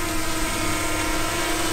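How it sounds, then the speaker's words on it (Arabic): Small camera drone lifting off, its propellers producing a loud, steady, close whirring buzz that holds constant and alone throughout. "مثل ما شايفين رح نطلق الطائرة"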